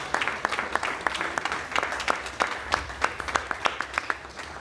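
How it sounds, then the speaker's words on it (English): An audience applauds at a formal introduction, with crisp, distinct individual claps scattered over a steady, moderately sized clapping crowd that holds its level throughout, no voices. "Give her a round of applause."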